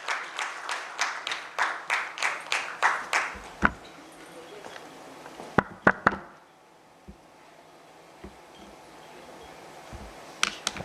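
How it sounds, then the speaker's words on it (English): Audience at an HR conclave on impact hiring in Indore claps in a fast, even rhythm for about four seconds, then falls to a few scattered claps and clicks before near silence. "Let's invite him with a round of applause."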